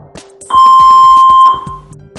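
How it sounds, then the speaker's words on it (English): A Saver One AED automated defibrillator gives one loud, clear, steady power-on beep of about a second when it is switched on. Faint soft clicks and handling noises come before and after it. "A beep will confirm it's switched on."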